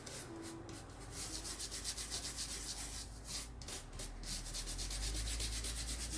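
Steady, rhythmic rubbing and scrubbing as wax residue is worked off a diamond painting pen, close and fairly quiet, repeating for several seconds with no talking.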